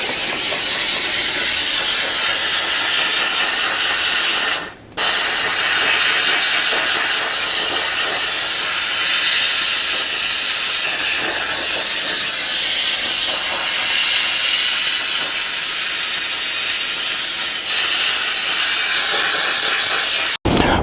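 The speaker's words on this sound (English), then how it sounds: "The steam cleaner got out almost everything." Steam cleaner hissing steadily and loudly inside a BMW E30 interior, one continuous close jet broken by a brief pause partway through and cut off at the end.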